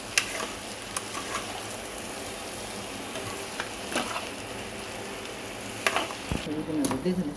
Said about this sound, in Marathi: आता याला छान कमी गॅसवर होऊ द्यायचं